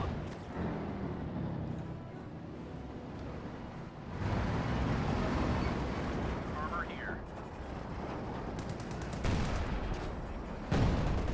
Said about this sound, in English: Also being bombarded here by the Sherman